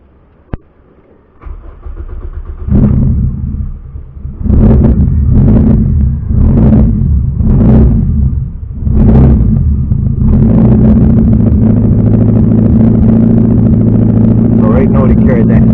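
A turbocharged Toyota Vitz engine starts and settles into a loud, steady low idle, with several rhythmic revving swells early on before the rumble holds close and constant.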